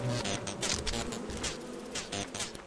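Swarming bees buzz continuously from the hive in the video game Lethal Company, a dense, steady drone with pulsing surges that stays close and fairly loud throughout, with no talk over it.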